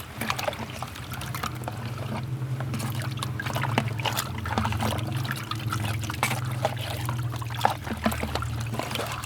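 NPK 16-16-16 fertilizer solution stirred in a container for chili plants in polybags, a continuous sloshing, trickling liquid swirl with scattered splashes, close and steady throughout.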